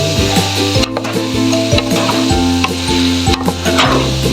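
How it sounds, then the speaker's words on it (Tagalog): Homemade sisig stirred in a hot pan, steady loud sizzling with repeated scraping strokes of a utensil against the pan at a regular rhythm, no talking. "Yan, haluin natin. Haluin natin."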